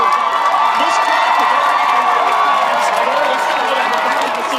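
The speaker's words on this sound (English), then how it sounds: "the cheers that were heard as well as before the national election result" A large crowd at a Berkeley election-night watch gathering cheers and shouts steadily throughout, a dense continuous roar of voices with whoops rising above it, loud and close.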